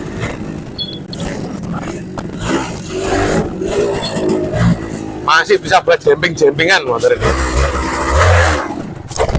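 Old two-stroke motorcycle with separate oil injection revving at close range, a sputtering staccato burst of blips in the middle rising to a sustained rev, with someone talking over the engine throughout.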